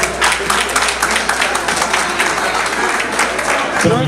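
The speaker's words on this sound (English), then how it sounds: "Sophia, please give her a round of applause." Audience applause at a Haitian heritage awards ceremony, a steady wash of clapping from a crowd filling the whole clip, fairly loud and continuous with some voices mixed in.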